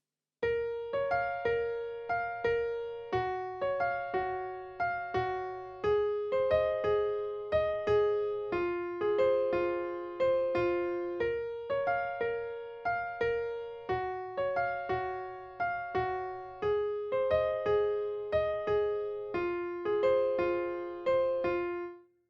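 Solo piano plays the verse of a song, a steady, clear pattern of repeated chords and melody notes in an even rhythm, close and alone without talk.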